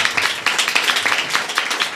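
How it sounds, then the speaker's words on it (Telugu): A church congregation at a Sunday service clapping loudly in unison, a dense, rapid, close patter of many hands filling the whole stretch with no pauses. "గట్టిగా చప్పట్లు కొట్టండి"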